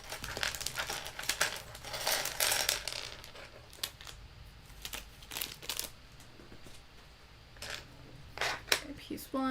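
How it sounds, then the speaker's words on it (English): Small hard plastic Lego pieces clatter and rattle in bursts as they are shuffled, with sharp clicks scattered throughout, close and fairly loud. "Apologies for the loud shuffling of pieces."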